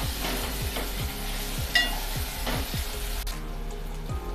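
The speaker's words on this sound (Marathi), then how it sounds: "त्यामध्ये अद्रक लसूणची पेस्ट ॲड करूया आणि ही सुद्धा कांद्यासोबत मिनिटभर परतून घेऊया।" Ginger-garlic paste and softened onions sauté in a pan for a Mumbai-style chicken kheema, giving a steady close sizzle under repeated rhythmic scraping strokes of a spatula.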